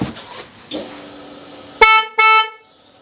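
Two short, loud horn blasts from a newly fitted horn on a Yamaha Fazer motorcycle sound in quick succession after some faint background shuffling, each a bright, steady honk.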